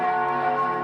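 Church bells ring in a live band performance in Budapest, a sustained cluster of bright, layered tolling tones that continues steadily without a break.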